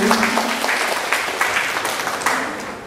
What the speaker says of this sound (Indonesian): Tepuk tangan dulu Pak PT Holcim.